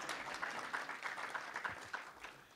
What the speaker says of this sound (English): You can clap, I'll stop every time.